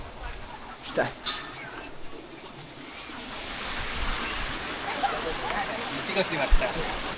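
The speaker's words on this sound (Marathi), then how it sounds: "हा बघा धबधबा आहे." A waterfall seen from a glass bridge at the Vrindavan Resort in Vaibhavwadi sends up a continuous rushing roar that grows fuller toward the end, with a few brief knocks and faint voices around it.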